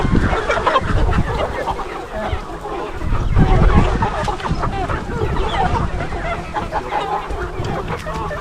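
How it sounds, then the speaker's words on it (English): Over 500 rainbow rooster chickens, 13 weeks old, cluck and squawk together on a poultry farm in a loud unbroken din of overlapping calls, with a voice running through parts of it. "These are rainbow roosters type of breed,"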